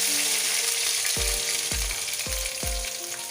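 Hot tadka poured onto cooked saag in a pan, a loud continuous sizzle and crackle of frying oil with several low thumps as the ladle strikes.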